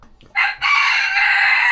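An Australorp rooster crows once, loud and close, in a long sustained call after a brief opening note, among Australorp chickens roaming the yard.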